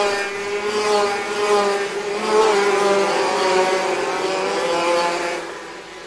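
Eleven senior-class IAME racing karts pull away from the left edge of the track for a formation lap, their engines giving a steady, loud, buzzing drone that swells and fades slightly, with no talk over it.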